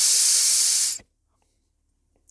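A compressed-air blower gun hisses hard through a dirt bike's carburetor hose while the carb is cleaned, a loud steady blast for about a second, then cut off to near silence.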